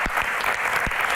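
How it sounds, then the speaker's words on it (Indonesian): Brief burst of audience applause at a Q&A event with a musician, dense clapping from a crowd, moderately loud and continuous with a few sharper individual claps. "Tepuk tangan"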